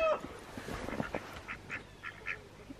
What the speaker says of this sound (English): Oh, we got loose ducks